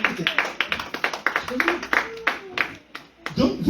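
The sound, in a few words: congregation applauding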